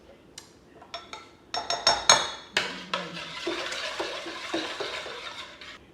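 Whisk clinking and stirring eggs in a bowl for homemade dinner rolls, a run of quick light taps and scrapes against the dish, close and fairly quiet.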